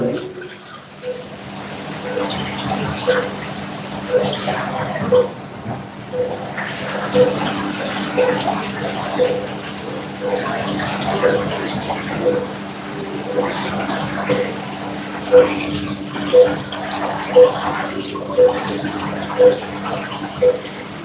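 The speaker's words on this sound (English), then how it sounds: "And then we're just gonna drain off the excess water." Excess water poured off cooked pasta into a sink at a workplace, a continuous splashing stream with a faint repeating electronic beep in the background and no speech.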